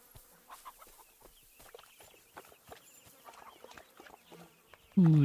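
Hens clucking in the medieval farmyard of the video game Kingdom Come: Deliverance II, a scatter of short, fairly quiet clucks and rustles over several seconds, ending in a sudden loud burst of another game sound.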